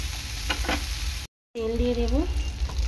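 Bitter gourd sizzling in hot oil, a close, steady frying hiss with a few crackles, broken by a short silent gap, then a brief voice over the continuing sizzle.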